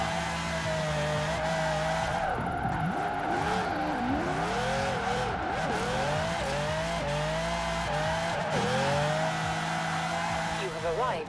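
A Ferrari 599 Formula Drift car in Forza Horizon 4 revs hard near 9,000 RPM, engine pitch sweeping up and down in repeated wails with tire squeal, loud and continuous throughout.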